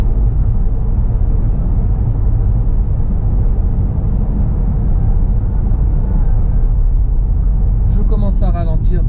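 Car cruising along a road at a steady 70 km/h, with a continuous loud rumble of engine and road noise throughout and a brief higher whine near the end.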